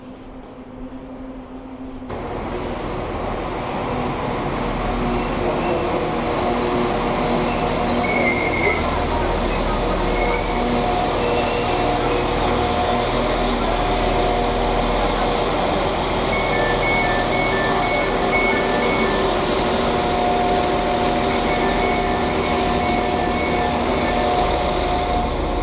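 Steady low rumble of a train and station surroundings at a railway platform in Barnsley, continuous and fairly loud, with faint tonal squeals and hum layered over it throughout.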